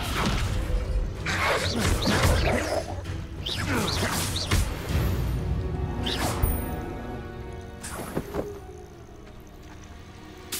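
Descendo spell in Hogwarts Legacy slamming a foe down during a cavern fight, heard as repeated crashing thuds and whooshes over game noise, with a few sharp impacts later and a brief voice exclamation.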